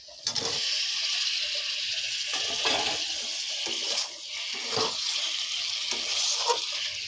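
Potatoes hitting a hot pan and frying, a steady broadband hiss with a few short splashy bursts, close and fairly quiet, no talking.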